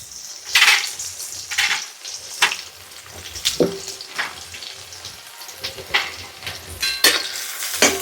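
Chopped onion goes into garlic frying in a pan over a wood-fired stove, giving sizzling and frying with stirring scrapes and clattering bursts, and water-like splashes at times.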